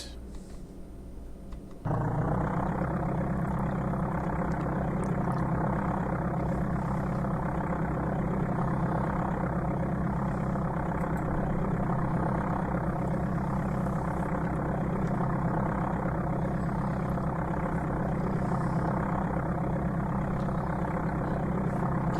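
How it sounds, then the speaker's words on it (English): An aircraft engine in the Amiga game Flight Simulator II catches after a quiet moment, then settles into a steady, loud, droning idle that holds evenly with no talk. "we'll go ahead and get the engine started"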